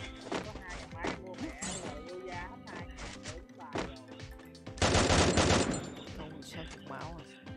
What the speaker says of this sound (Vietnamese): nó bắn xe lên, nó bắn chết hai luôn rồi kìa